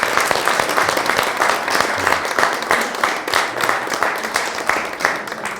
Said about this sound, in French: Je crois qu'on peut vous applaudir.